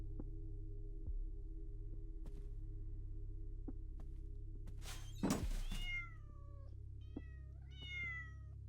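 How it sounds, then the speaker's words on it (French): A cat meows in the horror video game Bloody Burger, one loud close meow breaking through a low droning ambient hum, followed by fainter, higher chirping calls. "C'est toi le petit chat?"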